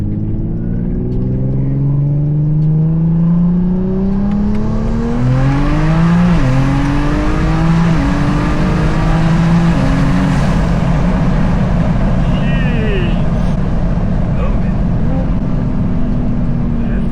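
An 800+ hp BMW 340i accelerates hard, its engine note climbing loud and continuous through repeated gear shifts, each rise in pitch breaking off and starting again, heard from inside the car.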